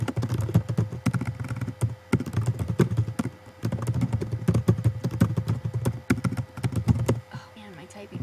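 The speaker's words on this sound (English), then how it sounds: "my typing is horrible" Rapid, uneven keyboard typing clatters close by under a speaking voice, the keystrokes tapping in bursts with short pauses.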